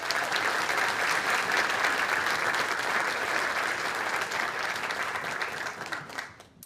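Sustained applause from a large audience at a school district's state-of-schools event, a steady dense roar of clapping that fades out near the end.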